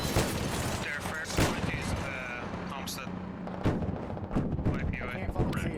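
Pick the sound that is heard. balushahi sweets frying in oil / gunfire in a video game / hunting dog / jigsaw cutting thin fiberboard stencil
gunfire in a video game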